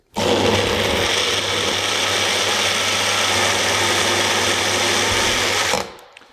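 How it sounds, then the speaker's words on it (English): A blender blitzes a berry smoothie with Sakura Cress, a loud, steady motorized whir and grinding that holds evenly for several seconds, then cuts off abruptly near the end. "And then we close it. And we blitz it."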